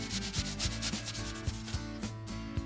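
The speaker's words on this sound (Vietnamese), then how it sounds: "quý vị có thể dùng giấy nhám, nhưng miếng xốp ẩm tạo ra ít bụi hơn giấy nhám thường" Damp sponge rubbing over a drywall patch, a rhythmic back-and-forth scrubbing with regular strokes, close and alone.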